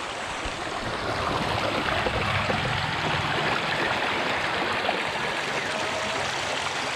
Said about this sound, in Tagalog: Na naririnig nyo ba yan? Yung tunog ng tubig.